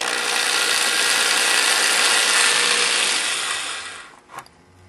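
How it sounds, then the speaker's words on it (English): A drill bit bores a hole through a bottle for a stove build, a steady loud whining grind for about four seconds that stops abruptly, followed by a brief clack. "then just drill easily through. Not a lot of pressure, makes a nice little hole"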